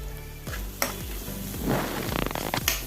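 Spices sizzling in a pan as chili powder is added for a North Indian dal curry, a close crackling fry with repeated scraping stirs and a few sharp clatters of a spoon against the pan.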